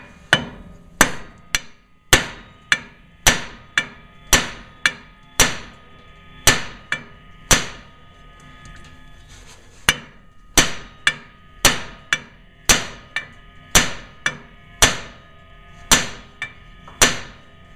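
Hammer repeatedly striking to break loose a stubborn ball joint on a 1998 GMC K1500, about thirty sharp, ringing metal blows in quick bursts with brief pauses, close and loud, no voices.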